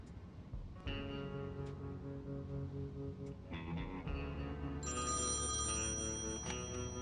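An electronic telephone rings at a bank in the adventure game Thimbleweed Park, with repeated tonal ring bursts that step through different pitches, layered over quiet game ambience and getting louder toward the end.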